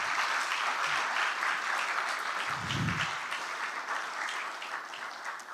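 An audience at a live banking and ethics competition grand finale claps together in a full, sustained round of applause that fades slightly toward the end.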